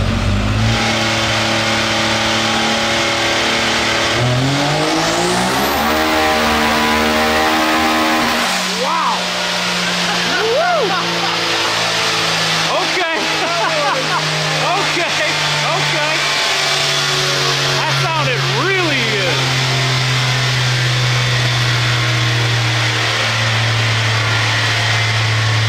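A Beast Mode X3 engine revs hard through a full dyno pull, climbing loudly in pitch, then holding a steady, roaring high-rpm drone for many seconds, very close, with people talking underneath.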